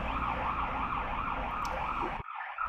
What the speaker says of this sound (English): I'll just let this ambulance go by.